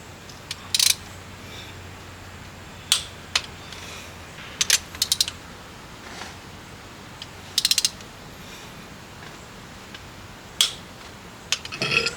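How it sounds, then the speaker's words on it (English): A torque wrench tightens cylinder head bolts on a turbo D-series engine, giving sparse, sharp ratcheting clicks in short clusters over a quiet background hiss, with no voices. "So far, I've got the head all torqued down."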